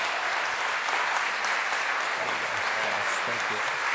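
A church congregation at a Sunday service gives its music director, Jesse, sustained, dense applause, loud and even throughout, with voices under the clapping.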